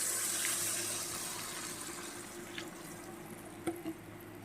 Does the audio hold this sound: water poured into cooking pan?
yes